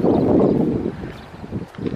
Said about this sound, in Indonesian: Anginnya cukup lumayan besar ya, karena tengah sawah lah ini ya.